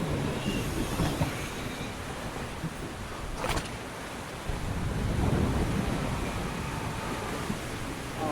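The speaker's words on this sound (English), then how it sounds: "Well, the wind's changed direction." Wind and waves roar steadily around a sailboat at sea, a broad continuous rush with gusty swells and no voices.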